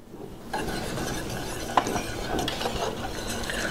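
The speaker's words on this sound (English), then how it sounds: "You really gotta make sure you stir it nicely and you control the process." A spoon stirs thick polenta with grated Romano cheese in a pot, giving a soft, continuous scraping and swishing close by with an occasional clink.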